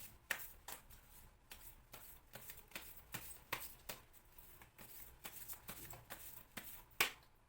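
Tarot cards are shuffled by hand, quick papery riffles and slaps repeating in an uneven rhythm, close and fairly quiet, with no talking.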